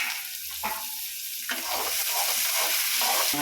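Chopped tomatoes sauté in a hot pan in a home kitchen, a soft continuous sizzle broken by a few stirring scrapes of a spoon, close by and moderately loud.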